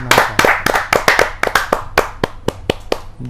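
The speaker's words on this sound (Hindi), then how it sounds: "जोरदार ताली के साथ एक बार" Audience members at a Hindi poetry gathering clap loudly and close by, a fast, uneven run of crisp individual claps rather than a smooth roar.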